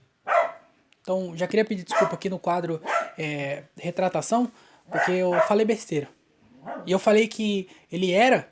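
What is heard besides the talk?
dog barking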